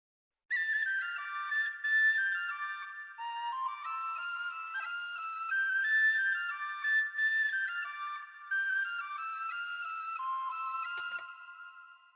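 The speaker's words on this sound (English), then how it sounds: "The first thing I added after the chords was that whistle." A high-register whistle plays a flowing, ornamented melody in a Celtic fantasy style, steady and fairly loud from start to finish with no voices.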